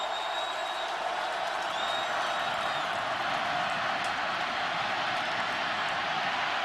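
A college football stadium crowd roars at an Athletic Club game, a broad, far-off sustained wash of cheering and applause with no break, thin whistles drifting above it.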